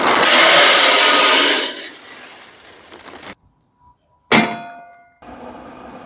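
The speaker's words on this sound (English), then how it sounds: "I want to load up the hopper with pellets" Wood pellets pour into the hopper of a Z Grills 7002C2E pellet grill with a loud rushing rattle that fades, then a brief silence, a sharp clang of metal and a softer trickle resuming.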